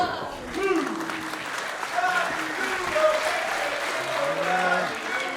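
Wrestling crowd at an ATTACK! Pro event in Penarth cheering and applauding, steady clapping and shouts throughout while a commentator talks over it.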